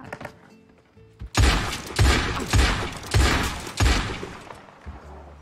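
A burst of gunshots in Red Dead Redemption 2 (WildRP): four or five loud, close shots in uneven succession after a quiet start.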